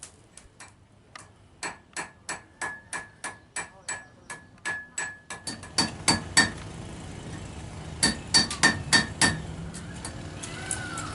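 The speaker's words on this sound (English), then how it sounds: "Right now we're going to watch a blacksmith make a nail." A blacksmith's sharp metal hammer strikes ring out while making a nail, in quick irregular bursts, some with a bright clinking ring, steady and close throughout.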